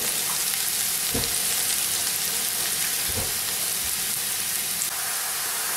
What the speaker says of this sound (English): Bubbling away. We've got that sizzle.